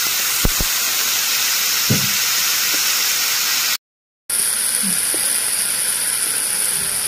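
Grated potato for a fasting dish hits hot oil tempering and sizzles with a loud, continuous hiss. A few soft knocks sound, and the hiss cuts out briefly partway through.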